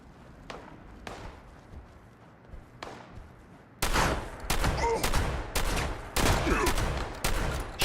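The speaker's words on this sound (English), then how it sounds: "Let's go back to our automatic combat shotgun." Automatic combat shotgun firing in Fallout 76: sparse single shots early on, then a loud rapid burst of repeated blasts in steady rhythm through the second half, with no talk.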